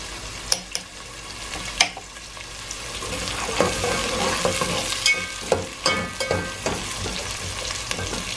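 Onions fry in a pan for a spinach and lentil curry, turning light brown. A steady close sizzle runs under repeated sharp stirring knocks and scrapes of a spoon against the pan.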